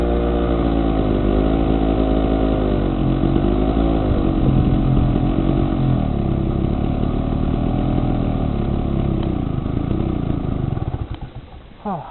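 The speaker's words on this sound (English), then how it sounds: "It's the oil mix generator." A two-stroke oil-mix generator engine runs steadily and loudly, with a constant harmonic drone and slight wavering; the engine note falters and drops off near the end.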